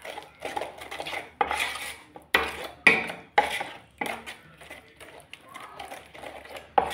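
A utensil scrapes and clinks against a bowl as chili fritter batter is stirred with water, in irregular bursts of knocking and scraping with short pauses between them, close and fairly quiet.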